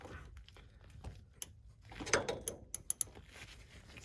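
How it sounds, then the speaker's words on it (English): Socket wrench working the filler plug on the front differential of a 2017 Yamaha Viking side-by-side, giving faint, scattered ratcheting clicks and metallic taps at close range, with a brief louder clatter near the middle. "So first thing we're going to do is pull out that filler plug. All right, so let's get our socket wrench in here."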